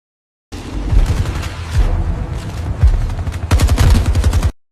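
Rapid gunfire rattles in an AI-generated video game, loud close bursts of automatic shots in several waves with short lulls between them, heard alone without talk.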